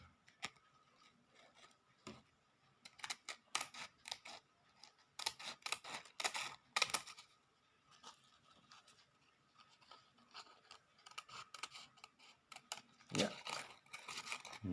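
Scissors snip through paper during a first-grade classroom craft lesson, in repeated crisp bursts of cuts that come in irregular clusters, close and fairly loud against a quiet room.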